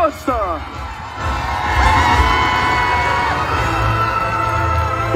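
A crowd gathered at the start of a sled dog race stage at Châtel-Pré la Joux cheers loudly with whoops and high shouts, the roar swelling and holding steady, while a voice announces over a loudspeaker.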